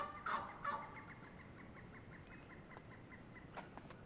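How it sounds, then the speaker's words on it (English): Faint, distant turkeys gobbling in a couple of short bursts near the start, over quiet outdoor background noise. "It's my turkeys."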